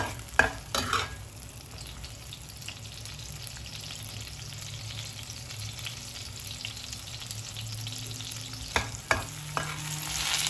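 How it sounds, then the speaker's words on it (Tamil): Onions frying toward brown for tomato chutney, a steady, close sizzle with a few clanks of the utensil at the start and again near the end. "இது கொஞ்சம் நல்லா ப்ரௌனிஷ் கலரில் வரணுங்க வெங்காயம்."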